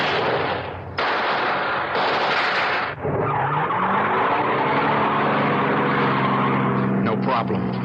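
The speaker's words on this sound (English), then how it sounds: "I shoved that getaway car into gear and took off" A getaway car roars off in a staged radio-drama effect, engine revving loudly while tyres screech and skid, with sharp bursts and a rising engine whine building across the whole stretch.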